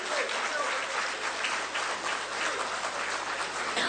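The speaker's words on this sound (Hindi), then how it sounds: "जोरदार तालियां होनी चाहिए।" Sustained, even applause from an audience fills the hall at a ceremony in Ranchi marking an agreement between the Tata group and the Jharkhand government. Loud and steady throughout, with no other sound standing out.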